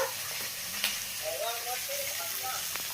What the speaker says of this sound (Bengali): তো এখানে হচ্ছে আমাদের ভোলা মাছের ভাজা